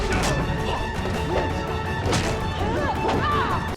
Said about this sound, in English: Smashed him right through the planks.